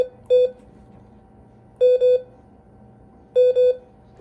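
A Morse code key sounds the letter M three times, each a pair of long steady tones, clean and close, with short silences between repeats.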